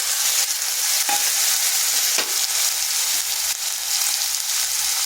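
Spice paste and a tomato hit a hot pan in a jackfruit curry preparation, giving a loud, steady sizzle of frying with occasional stirring scrapes, close and continuous throughout.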